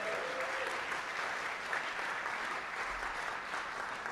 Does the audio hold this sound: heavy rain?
no